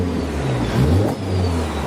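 A roughly 550 hp Honda Civic Type R FK8 running on methanol injection rumbles steadily up close with a faint high turbo whistle over the engine drone, swelling briefly mid-way with a fluttery edge.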